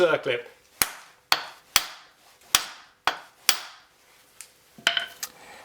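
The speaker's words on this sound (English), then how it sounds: "just give it a few sharp blows on the end to drive it over the" Hammer striking the end of a Lotus Elan M100 drive shaft to drive it over a circlip during a front suspension rebuild; six sharp metallic blows at uneven intervals, close and loud, followed by faint rattling.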